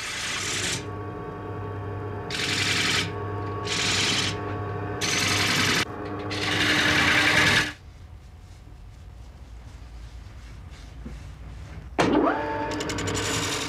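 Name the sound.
wood lathe turning a spinning wheel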